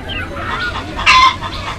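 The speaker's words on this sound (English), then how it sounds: "H for hen." A hen clucks close by in short, throaty calls, ending with a slightly louder squawk.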